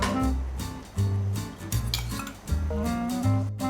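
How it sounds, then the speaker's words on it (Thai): A utensil scrapes and clinks against a pan of seafood tomato sauce on the stove, short repeated strokes with metallic knocks and a soft sizzle, close and without speech. "ขูดๆตัวกระทะนะครับ จะได้ไม่ไหม้"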